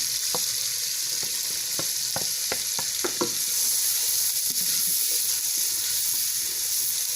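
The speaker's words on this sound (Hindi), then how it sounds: "हल्का सा हम सारी चीज़ों को फ्राई करेंगे।" Green chilies, green onion and green garlic fry in hot oil for sarson ka saag, giving a steady loud sizzle with a few sharp crackles and stirring scrapes early on.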